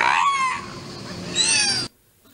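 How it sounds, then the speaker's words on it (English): A whale calls back to a researcher with squealing, whistle-like cries that rise and sweep, a loud burst followed by a second higher sweeping call before cutting to near silence. "Here's the researcher getting the whale to say 1-2."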